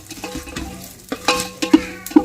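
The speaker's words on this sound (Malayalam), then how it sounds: "ഇത് നന്നായിട്ടൊന്ന് ആ നെയ്യിലൊക്കെ കിടന്നൊന്ന് വഴറ്റിയെടുക്കുക കേട്ടോ" Whole spices such as cloves and cardamom sautéing in hot ghee in a pan, close spoon stirring and scraping with intermittent clinks over a light sizzle, no voices.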